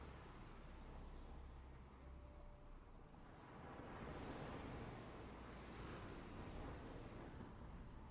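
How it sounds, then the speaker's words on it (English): Ocean waves wash and crash in a continuous broadband roar, swelling louder midway, with wind rumbling across the microphone and no voices. "the waves crashing."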